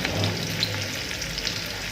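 Chopped onions, cut to a medium size, fry and sizzle steadily in a pan while being stirred, giving a close, continuous crackle with no talking.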